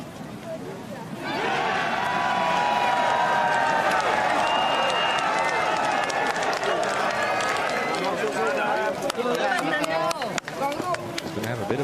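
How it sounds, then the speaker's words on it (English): Crowd at the final round of the Honda LPGA Thailand golf tournament roaring, cheering and applauding near the 18th, swelling in after a quiet start and sustained loudly with whoops and voices throughout. "And listen to this crowd."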